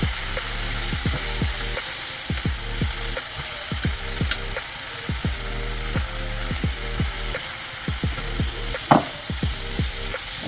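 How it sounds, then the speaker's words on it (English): Mushrooms sautéing in a pan over medium heat, a continuous loud sizzle broken by rapid repeated scraping and stirring strokes, close up with no talk. "So I'm going to put the mushrooms. Turn my fire down to about medium."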